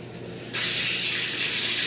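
Water from a hotel bathroom shower starts up after a quieter moment, then sprays in a loud, steady hiss close by with no talking.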